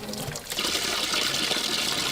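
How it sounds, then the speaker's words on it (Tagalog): Dark, discolored water bursts from a freshly opened tap in Bay, Laguna, a soft dribble giving way after a beat to a strong, steady gush splashing close by. "Pagbukas, bubulwakang maitim pa rin tubig."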